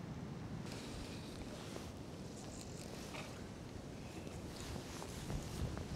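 Steady wind blusters across the microphone at a fishing spot. The roar is broad and continuous, with faint gusts and soft buffeting throughout and no voices.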